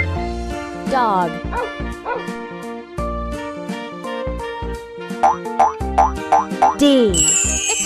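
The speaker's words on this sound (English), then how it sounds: "Dog." Cartoonish dog barking sound effect in a children's alphabet nursery song: a series of short, bouncy yips over steady, loud backing music.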